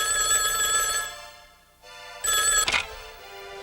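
A telephone bell rings in bright, close electronic bursts, pausing briefly between rings before sounding again, with no talking.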